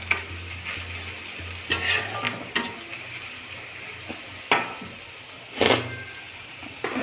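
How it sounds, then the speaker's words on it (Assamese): Spices with red chilli and turmeric powder fry in a pan with a low, steady sizzle, broken by several sharp bursts of stirring and scraping of a spoon against the pan. "তাৰপিছত আকৌ অলপমান এতিয়া মছলাখিনি ভাজি ল'ম।"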